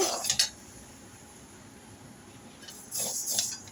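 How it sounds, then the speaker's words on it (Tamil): Metallic scraping and clinking of a utensil stirring pearl millet roasting in a pan, two short bursts at the start and end with quiet between. "இப்போ கம்பு இதையும் சேர்த்து நல்லா வறுத்துக்கோங்க"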